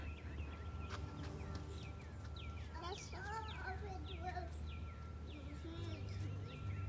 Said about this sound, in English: The bird sounds so pretty.